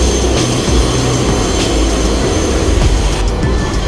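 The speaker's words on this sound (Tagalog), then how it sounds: "Dito na po ako sa loob ng tren." Loud, steady rumble inside a moving subway train in New York, dense low-end roar with rattling and clatter throughout, no voices.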